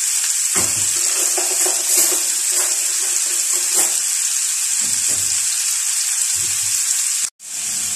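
Chicken breast brochettes frying in oil in a pan, a steady bright sizzle with intermittent clinks and stirring bumps, then a brief cut near the end.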